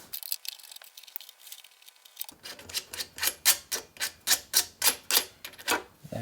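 Bottom screws are backed out of a Glory SR600 cash register: after a quiet opening, a quick run of evenly spaced, close, crisp ratcheting clicks sets in and keeps a steady rhythm.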